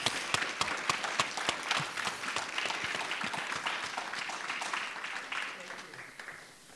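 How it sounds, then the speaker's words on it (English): An audience at an outdoor-equity celebration event gives a round of applause, dense steady clapping with sharp individual claps standing out, gradually thinning and fading toward the end. "Let us give a resounding round of applause for Paul."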